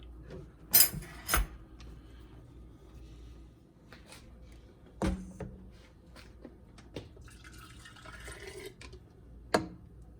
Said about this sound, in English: we're gonna get a jar and we're gonna start filling them up